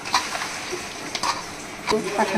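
A fish curry is stirred in a pan after oil is added, with a low steady sizzle and a few scraping strokes of a spoon, close and moderately loud over a short stretch.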